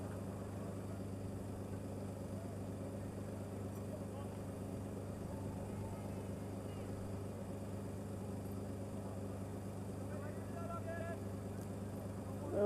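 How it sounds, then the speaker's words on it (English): A steady engine drones without a break in the background at a live high school baseball game, with people talking over it. "We got that pleasant engine running in the background."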